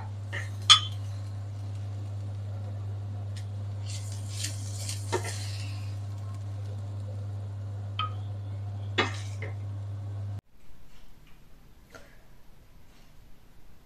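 A pan clinks several times as fried drumstick leaves are moved into another dish, with sparse light metallic taps and scrapes spread out over a low steady hum that cuts off near the end.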